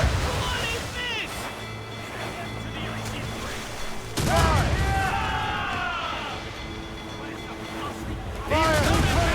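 Ship cannons fire in the naval combat of Assassin's Creed Rogue, heavy booms rolling over a constant roar of waves and wind, with game voices shouting orders over the din.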